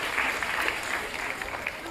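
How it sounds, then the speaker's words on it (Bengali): Hall audience claps steadily at a district cultural department event in Asansol, a dense, even patter of hands for about two seconds with faint voices beneath. "হাততালি হয়ে যা।"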